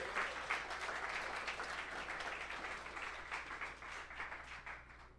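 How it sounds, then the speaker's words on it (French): An audience applauds the team behind a community event at a local bistro, steady dense clapping filling the room from start to finish with no talking. "Donc, on peut tous les applaudir aussi."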